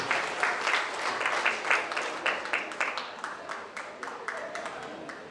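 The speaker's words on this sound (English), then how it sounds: "Let's give both these young ladies a big round of applause." An audience claps at a county fair 4-H goat show, starting as a full round of applause and thinning into scattered, distinct individual claps as it tapers off.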